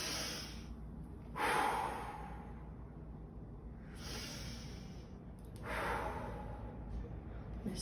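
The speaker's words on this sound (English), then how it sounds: "I'm going to do some volcano breathing." Deep volcano breathing exercise: two long, loud breaths with airy rushes, the first near 1.5 seconds and the second near 6 seconds, close to the microphone, with a brief spoken phrase in between.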